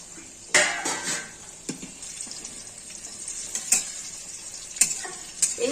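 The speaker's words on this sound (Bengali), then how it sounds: "এবার ঢাকনাটা লাগিয়ে দিলাম।" A metal lid clanks onto a pot of mutton curry cooking with potatoes and peppercorns over a steady sizzle, followed by a few scattered sharp knocks.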